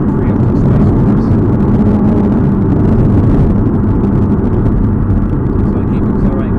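Aston Martin V8 accelerating on a track, a steady, loud engine drone with dense low rumble held throughout, with a voice speaking over the engine.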